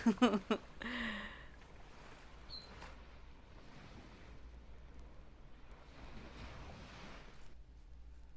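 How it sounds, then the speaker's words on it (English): Ocean waves wash steadily in the background behind a makeup livestream, a soft continuous rushing surf with faint wind, after a few brief louder knocks at the start. "Oh my god, you hear my ocean waves. Oh, that's my background."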